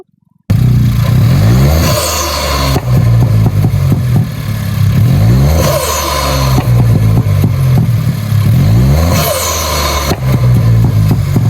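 A three-cylinder car engine fitted with a K&N intake and BMC air filter revs hard in repeated bursts, rising and falling with gurgling intake roar, loud and close with no talking.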